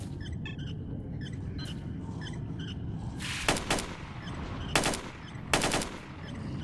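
AK rifle fire in the STALKER Shadow of Chornobyl game sounds over a low ambient rumble, with three sharp bursts of shots in the second half, loud and close.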